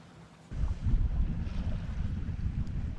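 A sailboat cruising at about 4.5 knots down the west bay of Grand Traverse, with steady low wind rumble and water wash that swell in after a quiet half second and continue throughout, no voices.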